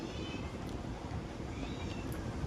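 A kitten gives a couple of faint, short meows over a steady outdoor background of wind and hiss, the cries thin and distant.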